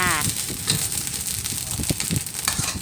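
Cucumber and pork stir-fry in a hot wok, giving a dense, continuous close sizzle with scraping and stirring throughout and a brief voice-like sound at the very start.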